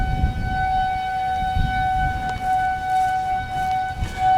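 Tornado warning sirens wailing steadily across Dealstadt, Missouri during a storm, a sustained distant tone holding under low wind rumble throughout.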